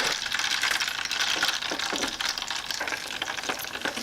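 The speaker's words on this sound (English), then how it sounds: "So I'm going to open this deep fryer." Chicken nuggets crackle and sizzle in a deep fryer's hot oil, a dense, steady hiss with scattered sharp pops running continuously at moderate loudness.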